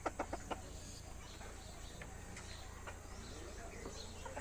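A laying hen clucks in short, repeated bursts, busiest at the start, then scattered faint clucks over a low background hum.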